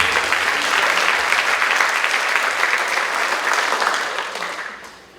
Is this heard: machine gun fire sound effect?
no